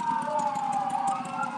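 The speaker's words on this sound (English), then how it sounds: "You go hear sirens all night." Police and emergency vehicle sirens wail at moderate loudness through a street scene during the LA riots and protests, a steady high tone holding across the moment with faint voices in the background.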